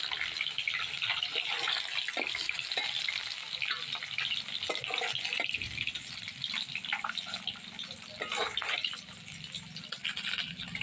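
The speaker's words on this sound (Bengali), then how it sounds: "কই তেলের মাছ বেশি ভাজতে হয় না, হালকা ভাজলেই হয়ে যায়।" Koi fish fry in oil with a dense, steady sizzle and crackle, punctuated by occasional scrapes and stirring clatters, close up and without speech.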